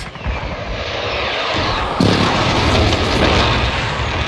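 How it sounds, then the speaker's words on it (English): Loud jet aircraft roaring overhead during a precision airstrike in Call of Duty Modern Warfare multiplayer Domination, a steady broadband rush that surges abruptly partway through, with gunfire and explosions mixed in. "Precision airstrike incoming."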